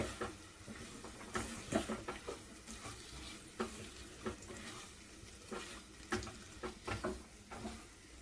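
Puliyogare spice powder being stirred into a fried carrot mixture in a pan, heard as repeated rhythmic scrapes and spoon knocks over a quiet, continuous sizzle, close up with no voices.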